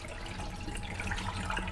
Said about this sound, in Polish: Elegancko najpierw wylewam nadmiar wody.